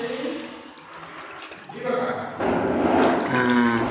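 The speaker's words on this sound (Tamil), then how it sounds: "பாத்திரம் வச்சாச்சு கொஞ்சம் தண்ணி ஊற்றிக்கலாம்" Water is poured into a cooking pot for making ulundhu kali, a rushing, gurgling pour that swells and grows louder toward the end, close to the microphone.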